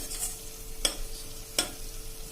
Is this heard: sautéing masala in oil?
yes